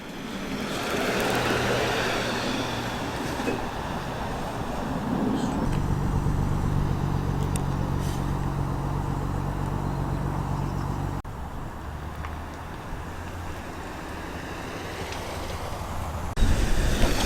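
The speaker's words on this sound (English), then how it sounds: "Next up to roll in is that absolutely lovely Rover P5. This is a 3-litre engined car." A classic 3-litre Rover P5 rolls in at an outdoor breakfast car meet, a low engine rumble that swells and steadies over several seconds amid open-air wind noise, fading back before another brief surge at the end.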